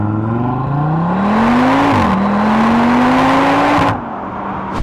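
A 2025 Audi RS3 in its sportiest engine setting accelerates hard, the loud engine note climbing steadily through two gear changes before easing off near the end.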